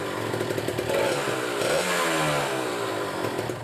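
A Kawasaki Ninja two-stroke motorcycle engine runs after a cold morning start, a close, loud, raspy buzzing idle with a brief rise in revs, heard alone without talk.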